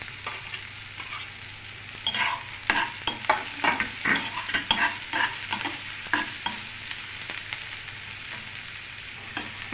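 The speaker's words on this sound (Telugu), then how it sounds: "ఇవి కొంచెం ఫ్రై అయ్యి ఎక్కువ వేగక్కర్లేదు అన్నమాట" Grated carrot, beetroot and tomatoes fry in a pan with a steady sizzle, while a spoon scrapes and stirs in a run of close, uneven strokes through the middle of the stretch, then the frying settles back to a soft hiss.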